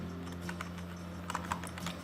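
Faint keystrokes on a computer keyboard as a search term is typed and entered in a dark room. A few soft clicks cluster over a steady electrical hum.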